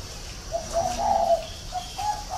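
A red-whiskered bulbul kept as a decoy bird sings a few short, bright, warbling phrases at close range, separated by brief pauses, over a faint, steady background hiss.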